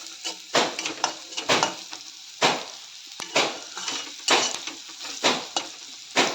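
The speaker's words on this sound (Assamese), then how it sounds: "এতিয়া মই এই ঢেকীয়া ভাজিম।" Fiddlehead ferns frying in a home kitchen pan, a steady sizzle broken by repeated scrapes and knocks of a spatula against the metal, close and fairly loud with no talk.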